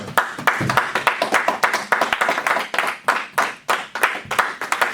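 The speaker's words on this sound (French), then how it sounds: "Acclamons très fort pour le Seigneur" A church congregation claps loudly in praise of the Lord, a fast, steady run of sharp handclaps from many people nearby, with faint cheering and voices underneath.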